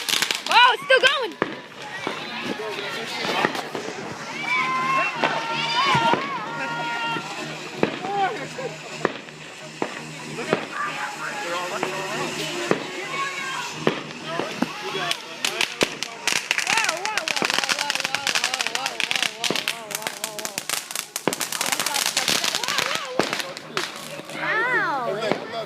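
Fourth of July party fireworks bursting and crackling in dense, rapid clusters for the whole stretch, loud and close, with people talking and exclaiming excitedly over the blasts.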